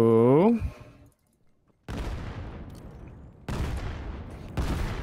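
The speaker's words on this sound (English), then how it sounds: "Nice nade comes out here." A grenade explodes in a Vail competitive match, a dense burst of loud blast noise with rapid gunfire-like crackle in several long bursts, following a brief pitched voice-like tone at the start.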